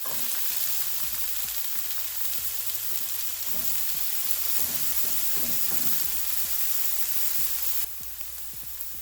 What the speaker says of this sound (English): to our preheated skillet, we're going to add some avocado oil, our onions,